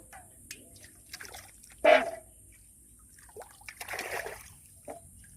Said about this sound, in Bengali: তো একই সঙ্গে লঙ্কাগুলো ধুয়ে নেব